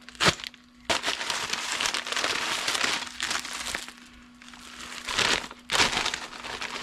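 Layered cardboard packaging being cut open with a blade, giving a run of close crinkling, crunching and tearing bursts with short pauses between them and a steady low hum underneath.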